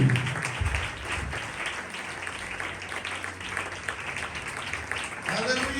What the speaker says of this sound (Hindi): जोरदार तालियां खुदा के खादिम के लिए